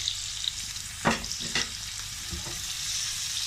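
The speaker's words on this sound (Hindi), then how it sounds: "मैं 1 टीस्पून अदरक और 1 टीस्पून जो गार्लिक है, लहसुन है, वो इसमें डालूंगी इस पैन में" Ginger and garlic fry in a pan for a kaleji masala, a steady crackling sizzle broken by a few sharp stirring clacks, with no voices.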